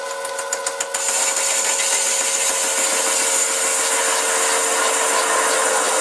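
A metal lathe makes a lighter cut at 400 RPM while fitting a small Bison chuck to a backing plate, producing a steady, bright cutting whine with a rapid ticking texture.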